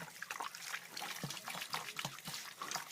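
Tap water runs steadily and splashes while hands are washed beneath it, a faint continuous trickle with small knocks and splatters throughout.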